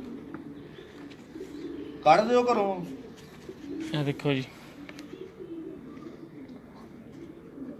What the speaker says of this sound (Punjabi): ਇਹ ਉਹਨਾਂ ਦੇ ਹੀ ਕਬੂਤਰ ਆ